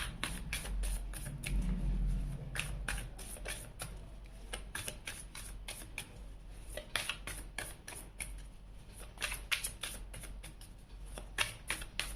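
Tarot cards shuffled by hand, a long run of quick papery riffles and flicks in steady bursts, close but soft, with a faint low hum underneath and no talking.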